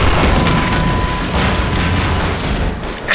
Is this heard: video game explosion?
yes